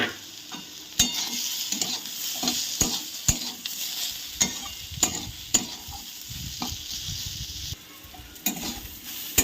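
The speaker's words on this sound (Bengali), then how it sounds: "মুগের ডালটাকে একটু ভেজে নেব" Mung dal frying in a pan with steady stirring, a continuous hiss of sizzle broken by regular sharp scrapes and knocks of a spoon against the pan, close and clear throughout.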